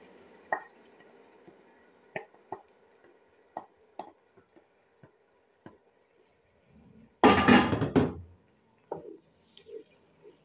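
Ground paste of two onions tipped into whole spices frying in oil, a sudden loud hissing sizzle lasting about a second, preceded and followed by scattered small pops, ticks and drips in a quiet kitchen.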